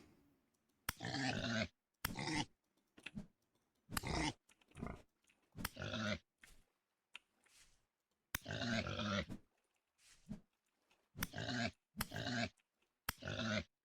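Pigs grunt in the video game Vintage Story, with repeated short snorting bursts in an irregular rhythm and brief silent gaps between them. The grunts are close, clear and heard alone.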